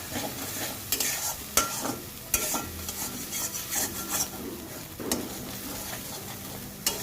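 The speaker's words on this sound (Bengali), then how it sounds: "মশলাটা খুব ভালো করে কষিয়ে নিতে হবে আগে, যত সময় না তেল ছাড়ছে" Spice paste with ground peanuts fries in oil while a spoon stirs and scrapes it steadily, with a continuous sizzle and sharp, irregular scraping strokes close by, and no voices.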